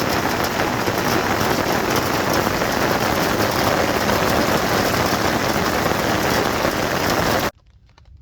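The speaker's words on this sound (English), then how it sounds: "And yes, that's hail on the ground." Hail and rain pound down hard during a Rocky Mountain storm, a dense, loud, unbroken patter that cuts off abruptly near the end.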